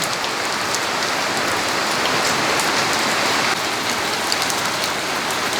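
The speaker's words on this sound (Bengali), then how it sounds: "ঝুম বৃষ্টি আর সেই সাথে এখন আমরা খাবার খাচ্ছি" Heavy rain pours down steadily in a village, a dense, even hiss of drops drumming on surfaces that stays loud and unbroken throughout with no voices.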